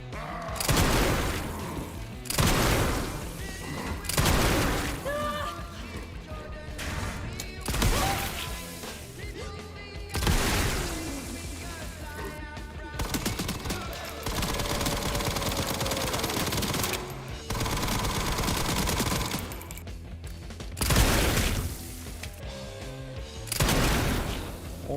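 Automatic gunfire rips through the Resident Evil Requiem video game in repeated loud bursts of rapid shots, separated by short pauses and heavy booms.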